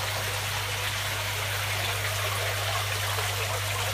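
Water streams steadily from a shower head onto the fish water of an aquaponics grow-on system, a constant close hiss with a low pump hum beneath and no talking.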